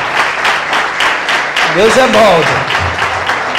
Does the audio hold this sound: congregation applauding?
yes